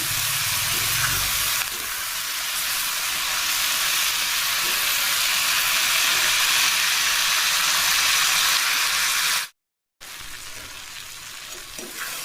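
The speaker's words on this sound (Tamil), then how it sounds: "இப்போ தக்காளி வதங்கட்டும்" Tomatoes sizzling and frying steadily in oil with curry leaves for a chicken kulambu, a loud, continuous crackling hiss with no voices, cut by a short silent gap near the end before the sizzle resumes.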